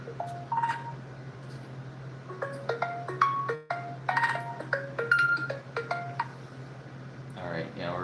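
Short phone tones beep in quick irregular bursts, like a call coming in or keypad presses, clear and close over a steady low hum, with a brief voice near the end.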